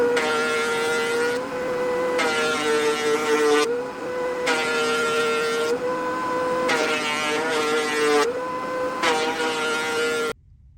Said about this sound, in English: we're gonna run it through the planer